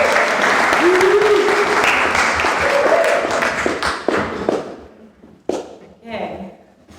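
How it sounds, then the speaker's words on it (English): An audience claps in loud, dense applause that holds for several seconds and then thins out and fades, with talk and a whoop near the end. "Deborah, let's give her a round of applause."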